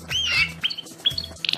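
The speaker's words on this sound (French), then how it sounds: "Ce sont les chants du canari Timbrado." Timbrado canary singing close by, quick bright chirps, rising whistled notes and a short rapid trill, in brief bursts with no talk over them.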